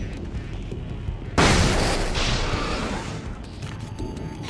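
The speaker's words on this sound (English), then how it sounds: "Flashbang out." A flashbang grenade goes off in Alan Wake's American Nightmare, a single sudden loud bang that cuts in sharply and then trails off into a long, slowly fading roar.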